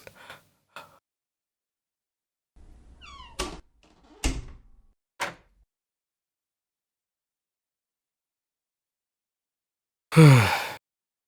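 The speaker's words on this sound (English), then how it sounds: "I should close the door," A door swings shut with a single loud, close thump near the end, following a stretch of quiet with a few soft sighs and small movements.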